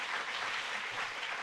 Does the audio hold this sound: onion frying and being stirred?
no